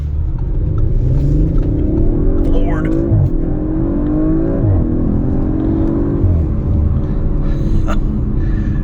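A 2021 Audi RS5 Sportback Ascari Edition accelerating in traffic, its engine rumbling and rising in pitch through a gear change inside the cabin, with a brief spoken exclamation over it.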